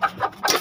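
Short bursts of hen clucking, three or four quick calls close by, with no voices.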